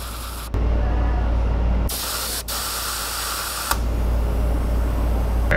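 An airbrush sprays yellow paint onto a white bass swimbait lure, a steady close hiss in long bursts that cut in and out, with no talking.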